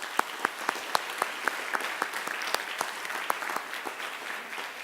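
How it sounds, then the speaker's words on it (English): Audience applause fills an awards presentation ceremony, a steady patter of many hands clapping with a few sharper individual claps standing out, moderately loud and continuous. "I ask you all to join me for a big round of applause for it."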